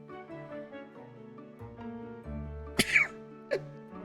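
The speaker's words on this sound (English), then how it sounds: "Oh, one moment, I'm gonna sneeze." A single sharp, loud sneeze bursts out near the microphone after a few seconds of quiet breathy vocal sounds, followed by a shorter snort-like exhale.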